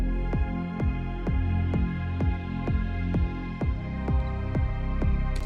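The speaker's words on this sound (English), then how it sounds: "I just have a kick drum, bass, and a pad, and it sounds like this." Electronic music loop of a steady four-on-the-floor kick drum with a sustained bass line and a soft synth pad, the kick thumping evenly about every half second, loud and alone without talk.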